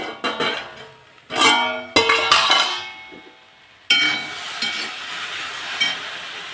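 Salted chopped food stirred in a pan with a spoon, giving scraping clanks and bursts of sizzle in irregular strokes, then a steadier frying hiss, close and fairly loud.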